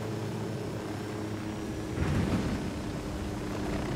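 Helicopter in the video game Ghost Recon Wildlands, a steady rotor and engine drone throughout that swells a little louder midway, as if the aircraft is settling down to land.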